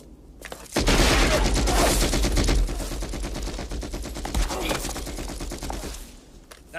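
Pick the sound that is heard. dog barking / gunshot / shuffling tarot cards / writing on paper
gunshot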